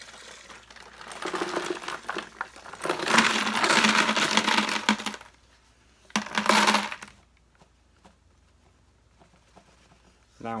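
Brass cartridge cases rattle and jingle in a case sifter over a bucket in two loud bursts of dense metallic clinking, a longer one and then a short one, with quieter pauses between.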